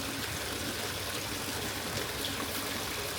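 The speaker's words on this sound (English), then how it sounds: "you punch a few holes and water comes out." Water trickles and streams steadily out of holes punched in a discharge pipe near a creek-side drain, a close, continuous gurgling flow with no talk.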